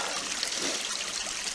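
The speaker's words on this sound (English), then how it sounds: "I filled up my water bottle" A mountain brook in Ramapo Mountain State Forest trickles and splashes as a water bottle is filled, a close, steady broadband gurgle with no talking.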